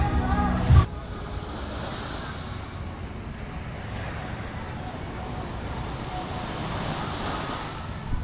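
Steady sea surf and wind rushing across the microphone at El Nido, Palawan, a broad continuous wash after a short bump of handling noise at the start.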